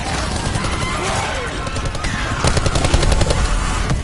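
A machine gun presented as a lightweight alternative to the Gatling rattles in rapid bursts amid loud cinematic noise, dense repeated cracks building toward the end.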